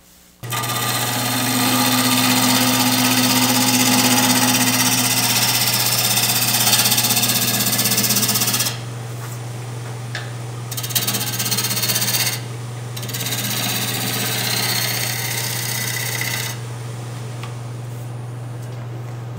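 A wood lathe spins a wooden cube while it is hollowed, making a steady motor hum under broadband scraping and cutting noise that cuts out and restarts in several bursts.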